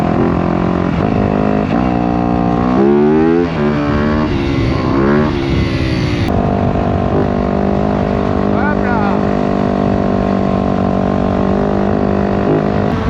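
A 250cc dirt bike engine revs loudly nearby, pitch climbing and dropping through repeated throttle bursts, with someone talking in French over it.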